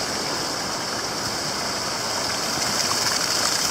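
Water gushes steadily out of a tank, a close, continuous rushing flow with a faint mechanical hum underneath and no talking.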